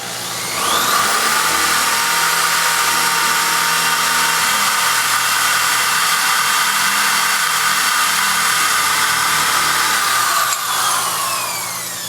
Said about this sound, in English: And we're going to go ahead and drill them out.